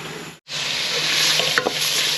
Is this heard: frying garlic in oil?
yes